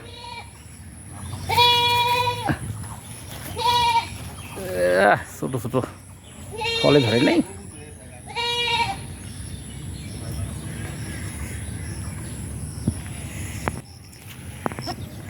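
Goats bleat several times in short, wavering cries, close by, between stretches of a person talking.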